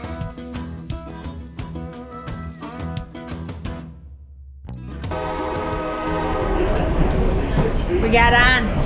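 A train horn sounds in repeated blasts, then fades into the steady rumble and clatter of a moving train, growing louder.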